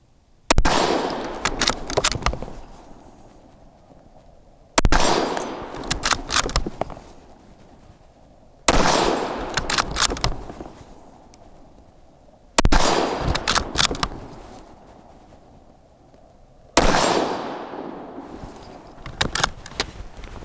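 Five sharp rifle shots from an Anschutz 1771 fitted with a scope, spaced roughly four seconds apart, each a loud crack trailing into a long outdoor echo and decay, with no talking.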